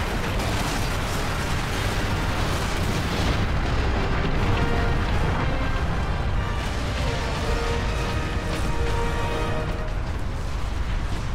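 A sustained roaring explosion from Warhammer 40K Space Marine, a continuous loud rumbling blast with debris and mechanical clatter filling the whole stretch, no talk over it.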